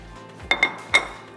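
Dishware clinks as chicken in creamy gravy (murgh malaiwala) is served into a serving dish, three sharp clinks close together, clear and close with no talking.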